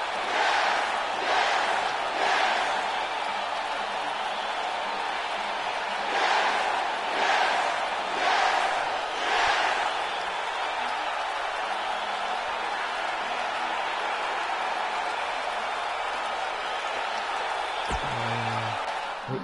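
A virtual arena crowd in the WWE 2K19 wrestling game roars and cheers, with several loud swells early on that fade into a steady crowd murmur, plus a brief thump near the end.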